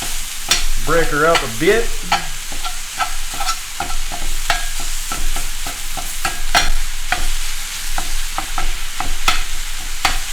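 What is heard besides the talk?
meat chunks sizzling while frying in pan for empanadas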